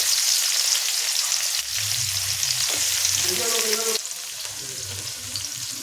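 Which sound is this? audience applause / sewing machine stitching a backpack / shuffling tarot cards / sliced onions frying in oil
sliced onions frying in oil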